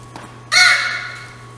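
A single harsh crow caw rings out loudly and close, trailing off over about a second against a faint steady hum.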